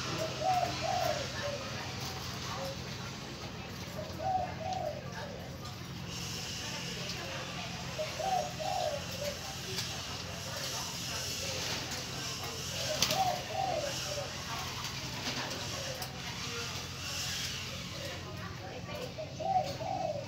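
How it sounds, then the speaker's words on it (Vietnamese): Malay doves coo inside an aviary, soft repeated coos recurring every few seconds over a constant noisy background, moderately near, with no voices. "mình thả mấy bầy chim nhỏ ra luôn cho nó bay nhảy cho nó mạnh ở trong cái AV này"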